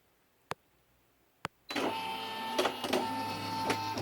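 Brother PE800 embroidery machine: two sharp button clicks, then the motorised hoop whirs steadily across to centre under the needle with a few clunks, close and quiet, no talk.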